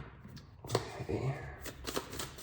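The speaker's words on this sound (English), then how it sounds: "let's get a good shuffle." Tarot cards being shuffled by hand, a run of papery riffles and soft slaps up close with brief rustling bursts, no voice over them.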